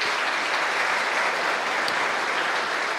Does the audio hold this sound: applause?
yes